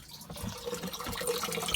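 Spring water runs steadily from a pipe, fed through the handle of a garbage can, splashing and trickling into the filling can; a continuous close, moderate wash of liquid with no voices.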